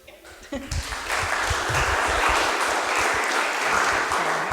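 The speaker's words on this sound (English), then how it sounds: "Already get applause." An event audience bursts into applause as a panel begins on stage, a few scattered voices and claps first, then full steady clapping swelling and holding to the end.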